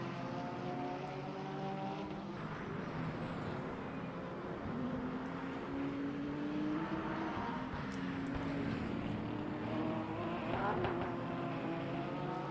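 A Manthey Porsche and the number 21 Ferrari race car in Le Mans Ultimate at Imola hum continuously, engine pitches rising through gears in a steady, moderately loud drone without voices.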